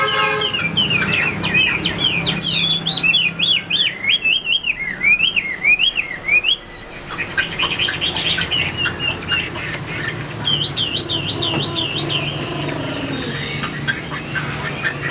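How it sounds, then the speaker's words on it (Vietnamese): A Chinese hwamei with a fanned tail sings loudly and close, pouring out varied whistled phrases, rapid trills and warbles almost without pause across the whole stretch, with no voices. "Đấy, lại đứng cao cầu hót hót ngay, rời tay là hót ngay."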